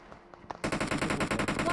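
Rapid automatic gunfire in the battle royale game BGMI bursts in after a few faint taps, a loud, steady stream of shots that continues to the end.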